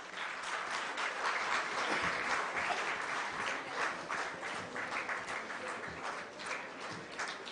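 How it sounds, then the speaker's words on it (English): A graduation day audience keeps up sustained clapping for over seven seconds, a thick continuous patter with scattered sharper claps standing out and a slight easing toward the end. "clapping, please."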